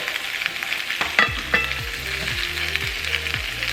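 Oxtails sizzle and fry in a pan with a steady, close crackle, and a few clinks and scraping stirs sound over it. No one speaks.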